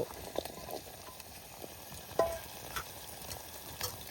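Tomatoes and potatoes fry in a pan in a home kitchen, giving a soft, continuous sizzle with occasional stirring clicks and crackles, close up and without talk.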